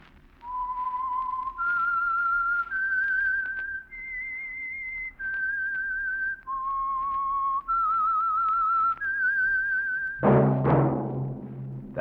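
A lone whistler performs the theme tune of The Whistler, a 1947 Signal Oil radio mystery program, in a steady series of clear held notes stepping up and down, closing with a loud, full burst of sound.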